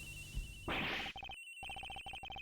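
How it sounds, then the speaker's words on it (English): A phone rings in the Ace Attorney Investigations video game, with a short burst of noise followed by a steady electronic trill that repeats in quick pulses, broken by a brief gap, with no voices. "Agent Hicks's phone. It's ringing from somewhere, sir."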